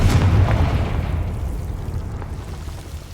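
A Confringo fire spell explodes in the video game Hogwarts Legacy: a loud, deep burst opens at once, then a long rumbling blast tails off slowly with no voice over it.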